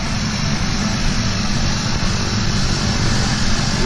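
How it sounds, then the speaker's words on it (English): A propeller airplane idles nearby on the ground before a tandem skydive, its engine a loud, steady roar with a constant low drone that holds throughout, with no talk over it. "Here we go, we're going to come across in front of the plane."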